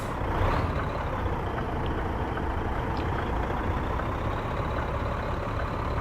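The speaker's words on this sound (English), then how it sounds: "Brakes coming off." Truck air brakes release with a broad, steady hiss inside American Truck Simulator, over a constant low engine rumble that fills the whole stretch.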